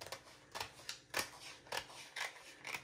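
Scissors snip through a sheet of decorative craft transfer, about half a dozen quiet, close cuts spaced unevenly in a calm room.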